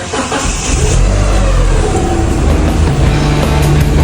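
A car engine cranks, catches and is revved hard, a loud, close, continuous roar with surging pitch that settles into a rough running note, with no talking.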